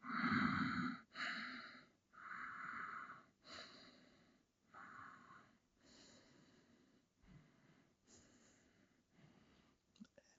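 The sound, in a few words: breathing during yoga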